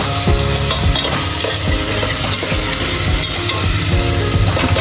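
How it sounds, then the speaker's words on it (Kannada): Garlic tempering in hot oil with other vegetables nearby, a loud constant sizzle overlaid by rhythmic scraping and clanking of a spoon stirring in the pan, close and without talk. "ಬೆಳ್ಳುಳ್ಳಿ ಹಾಕ್ತೀನಿ ಸ್ವಲ್ಪ ಒಗ್ಗರಣೆಗೆ"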